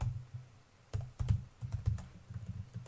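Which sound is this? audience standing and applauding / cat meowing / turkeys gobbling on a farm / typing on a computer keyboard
typing on a computer keyboard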